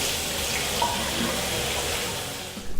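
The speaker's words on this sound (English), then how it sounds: "The rush of water is just superb." A hand sink tap runs at full force in a condominium unit, a steady close broadband rush of water that holds level and then tapers off near the end.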